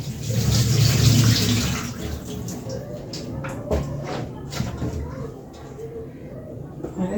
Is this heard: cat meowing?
no